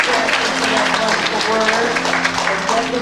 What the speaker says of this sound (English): I'd like to give our speaker another round of applause.